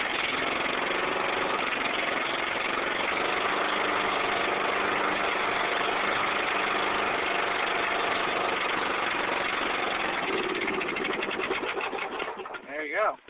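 A yard tractor engine running with a newly swapped exhaust, a loud, close, steady buzzing drone that holds throughout before faltering and cutting out at the very end.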